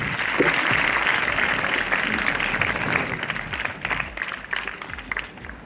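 An audience at a school investiture ceremony applauds loudly with dense, sustained clapping that holds steady and then tapers off over several seconds.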